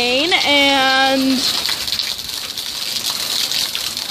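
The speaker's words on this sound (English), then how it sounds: "I'm done with my shower in the rain" Steady heavy rain pours down outdoors, a loud continuous wash of water throughout, with a brief voice-like tone rising and holding near the start.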